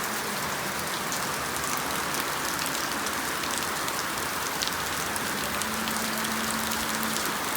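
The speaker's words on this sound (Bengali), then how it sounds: "প্রচণ্ড বৃষ্টি, তার সাথে বিদ্যুৎ চমকাচ্ছে।" Heavy nighttime rain with lightning on the Sikkim Silk Route, a dense, even roar of downpour on surfaces that holds steady throughout with no voices.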